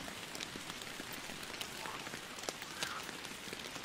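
Rainfall in the Fishing Planet fishing game at Emerald Lake, a faint steady patter of drops on a surface with a few slightly louder taps, no voices.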